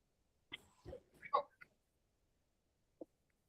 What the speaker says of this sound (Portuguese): agora já comecei a tossir aqui